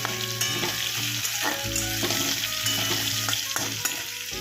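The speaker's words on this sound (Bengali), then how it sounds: "ঢাকনাটা খুলে একটু আলুটা নেড়ে দিতে হবে" Potatoes sizzle loudly in a frying pan while being stirred, with repeated scraping strokes over a continuous crackling fry.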